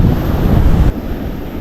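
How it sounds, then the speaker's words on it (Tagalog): Strong sea wind roars and buffets loudly across an open fishing boat, easing abruptly partway through into a slightly softer steady rush. "grabing hangin no"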